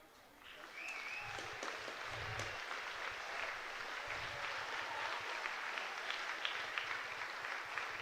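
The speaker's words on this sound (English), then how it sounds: "Majors crowd will clap him off as Josh Williams will be carted off" Baseball crowd at a London Majors IBL game applauds an injured player carted off the field, a faint, steady, distant clapping sustained throughout with some low rumbling thumps in the background.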